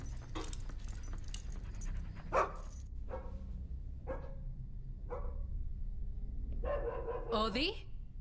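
Dog barking in a tense home setting, several short sharp barks spaced about a second apart over a low background hum, with a high whimpering squeal near the end.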